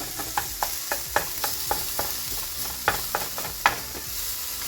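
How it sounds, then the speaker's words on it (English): Ground turkey browning in a pan with olive oil, a steady close sizzle broken by repeated sharp scraping clicks of a spoon or spatula stirring the meat. "It's browning up really nicely."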